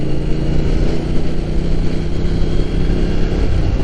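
A Triumph Thruxton Final Edition motorcycle on the road, its engine giving a steady, dense, rumbling drone that stays close and loud from start to finish, with no talking.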